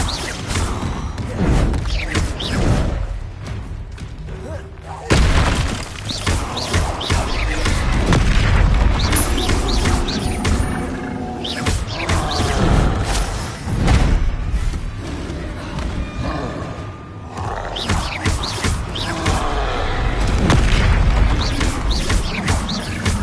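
Confringo explosive spell blasts in the Hogwarts Legacy video game, repeated loud booming impacts and crashes in a dense, continuous battle din with no gaps.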